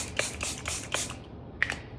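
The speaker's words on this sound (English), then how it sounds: "You can spray it. I've got this little spray bottle." A small hand-held spray bottle misting water onto a watercolor card, several short hissing bursts close by, followed by a brief pause and one more spritz.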